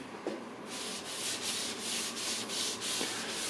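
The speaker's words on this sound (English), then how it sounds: "I use a sponge for this. And I'm just going to rub that in." A sponge rubs wax into a chippy wooden coffee table in a steady back-and-forth scrubbing rhythm, close and moderately loud, with regular strokes roughly every half second and no voices.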